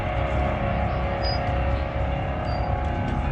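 Cars running on a raceway track at a nighttime car event, producing a loud, steady engine roar and revving that fills the whole stretch without any talk.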